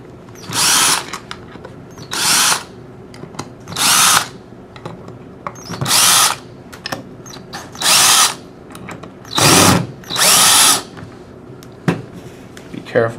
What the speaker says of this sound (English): I'm just using a drill with a 1/8 bit.